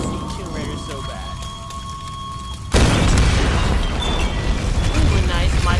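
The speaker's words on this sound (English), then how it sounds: "Ooh, a nice Michael Bay explosion." A loud explosion erupts midway through Tomb Raider (2013) on PS4: game music and ambience, then a sudden heavy boom that leaves a sustained rumbling roar, with a player's voice heard over it.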